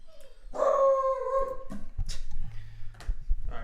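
A dog lets out a long, loud howling bark close by, followed by a few shorter yips and rustling indoors.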